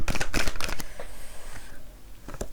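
Tarot cards handled at a table, with a quick burst of shuffling and sliding clatter near the start, then a lone tap of a card set down toward the end, all close and fairly quiet with no talking.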